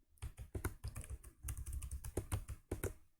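Rapid, close typing on a computer keyboard while coding in Python, a dense run of crisp key clicks with no pauses across a few seconds, fairly quiet overall.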